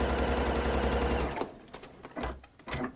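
A sewing machine stitches fast and steady in a home sewing room without its walking foot fitted, a loud even whir that stops partway, followed by short handling clicks and brief bursts of movement.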